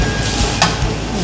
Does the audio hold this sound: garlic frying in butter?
yes